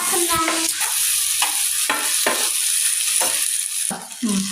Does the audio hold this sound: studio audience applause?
no